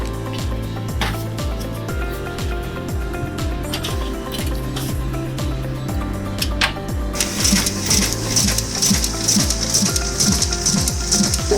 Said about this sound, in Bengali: তো এবার ওই পেপারগুলোতে আমি জাস্ট সেম ডকুমেন্ট আমি প্রিন্ট করে